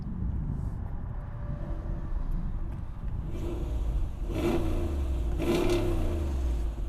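A Grand Wagoneer's engine idles with a low exhaust rumble, then revs up twice in quick swells before settling back, heard from nearby.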